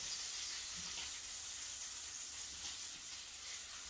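Butcher cut bacon frying in a pan, giving a steady, even hiss and sizzle that holds throughout without pause, close and moderately loud, with no voices.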